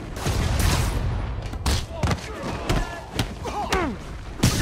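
Rockets fired and exploding in Spider-Man on PS4, a loud rapid barrage of booms and thuds with whooshing streaks, layered over game sound effects and brief character voices.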